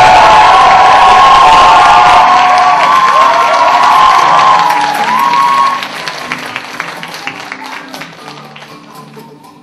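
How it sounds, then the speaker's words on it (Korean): Loud applause and cheering from an audience at a talk concert, with whoops over dense clapping that fades to scattered claps toward the end. "여러분 큰 박수와 환호로"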